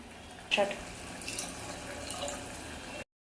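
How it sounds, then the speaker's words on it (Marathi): Water pours steadily into a pot of spiced rice for a few seconds, a soft continuous splashing that stops abruptly at the end. "तर यामध्ये आपण पाणी ऍड करणार आहोत।"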